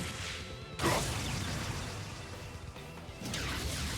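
Shatter attack in the RPG Trails of Cold Steel: a loud smashing burst with whooshing swipes, a second crashing hit near the end, all over dense game effects and music.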